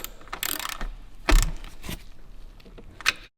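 A fastener being tightened with a ratcheting tool during repair work on a crashed Porsche GT3 RS, several bursts of close mechanical clicking and clattering with a louder clank near the middle, no voices.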